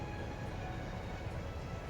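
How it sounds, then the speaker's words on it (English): A train rolls past in a video game, a steady, dense rumble holding at an even level throughout with no voices over it. "Nice train."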